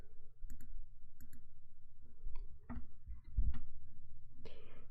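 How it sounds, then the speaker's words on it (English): Several crisp computer mouse clicks, sparse and irregular, over a low steady hum, close and fairly quiet. "Click."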